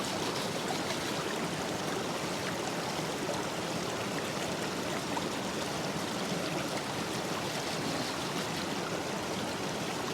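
A gold pan with water and gravel is shaken steadily outdoors, giving a continuous rushing, sloshing wash of water at an even level throughout, with no talking.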